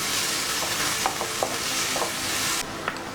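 Ingredients fry in a pan for a palak chicken, giving a dense, steady sizzle close by, with light scraping stirs ticking through it and no talking.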